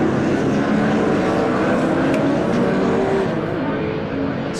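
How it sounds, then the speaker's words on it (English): A pack of TCR touring race cars at Donington Park roars through a flying rolling start, a dense, continuous blend of different engines at steady high volume with no gaps, loud and close throughout. "Stunning sound of this mixture of different engines"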